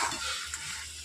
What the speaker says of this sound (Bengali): এক হাত দিয়ে ফোন ধরে আছি আর এক হাত দিয়ে খুন্তি নাড়ছি